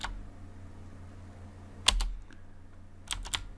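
Keys clacking on a computer keyboard while setting up a Raspberry Pi server, a few sharp clustered taps separated by quiet pauses, close and fairly soft.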